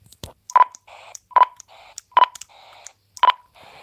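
A sequence of short electronic call-sign beeps comes over a CB radio in a quick tonal pattern, with brief bursts of radio hiss between the tones.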